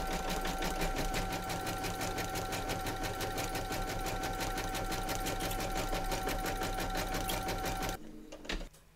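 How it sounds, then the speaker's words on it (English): A home embroidery machine stitches a placement outline round in the hoop for a fabric bunting piece, a steady rapid mechanical whirr with regular stitching pulses running loud and unbroken for about eight seconds before stopping abruptly. "pop your hoop into your machine and stitch round number one"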